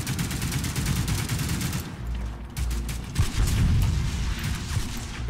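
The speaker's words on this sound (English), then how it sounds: "Somebody sniped me." Sniper fire in a multiplayer war video game, with dense gunfire and booming battle noise rolling continuously in the background and a sharper shot standing out near the end.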